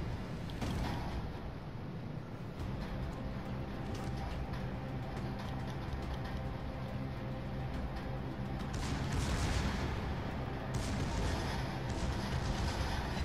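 Naval gunfire from battleships in World of Warships, including the Tier 7 Bismarck: a continuous dense wall of booming, rumbling game noise with heavier bursts toward the end, loud and unbroken, no voices.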